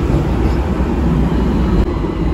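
A Hong Kong tram ride from Admiralty carries a loud, steady rumbling roar of the moving car, a dense, continuous rolling noise with one brief dip near the end and no talk.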